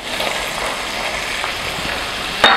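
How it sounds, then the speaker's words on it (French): Peas and green pepper sauté in a hot pan, a steady bright sizzle running throughout with a few soft stirring scrapes and a sharper clatter near the end, no voices. "Donc on va faire sauter ceci ensemble"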